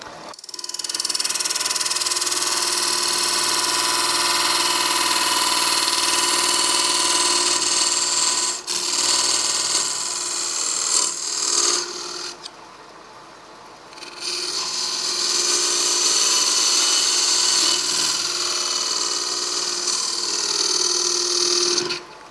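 End grain of a wooden oval box is scraped with a continuous, loud, rasping hiss that breaks off briefly around the middle and then resumes steadily, with no voices.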